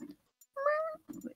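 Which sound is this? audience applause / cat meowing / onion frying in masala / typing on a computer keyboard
cat meowing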